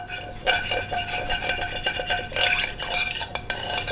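Water stirred into a pot of beef juices and garlic while making a slow cooker pot roast, with repeated scraping and clinking of a utensil against the pot in an irregular rhythm, close and moderately loud.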